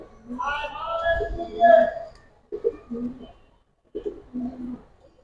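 Silver Bagha pigeons coo in a pigeon collection, several soft, low throaty bursts up close, broken by short pauses.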